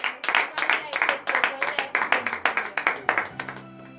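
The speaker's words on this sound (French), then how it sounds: "Donnez de vive acclamation à l'Éternel." Congregation clapping rhythmically in a church during a morning prayer service in Benin, a steady close beat of many hands running throughout, with a low sung or hummed tone entering near the end.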